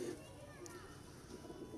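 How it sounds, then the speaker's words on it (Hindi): A black-pearl pigeon coos softly in a loft, low rolling coos faint beneath someone talking nearby. "ये दोस्तों काले मोतियों वाला कबूतर"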